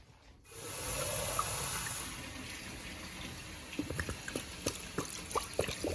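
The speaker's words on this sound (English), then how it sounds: "the easiest way to do this is just to add this, and then fill it up with water" Water pours from a tap into a crockpot with beef pot roast and au jus sauce, a loud steady gush that thins into scattered drips and splashes toward the end.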